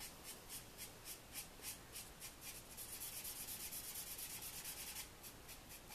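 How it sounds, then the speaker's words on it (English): A praline-shade Studio 71 alcohol marker scrubs back and forth over paper to blend colours, giving a steady run of soft, rhythmic rubbing strokes that are faint and close, with no talking. "I'm just going to take my praline and scrub all that together to blend"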